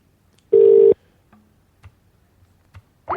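A telephone being dialed: one loud, steady dial tone lasting under half a second, followed by a few faint clicks and short tonal blips with quiet gaps in between, and no talk.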